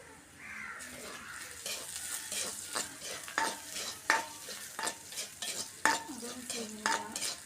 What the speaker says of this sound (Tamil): 2 பச்சை மிளகாய் சேர்த்துக்கணும். கொஞ்சம் வதங்கட்டும்.